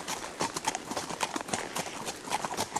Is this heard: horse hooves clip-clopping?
yes